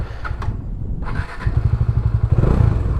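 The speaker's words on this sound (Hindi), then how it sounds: "स्टार्ट करते हैं बाइक।" A motorbike engine starts and settles into a loud, close idle with a steady pulsing low throb, set to begin a ride out of Manali toward Ladakh.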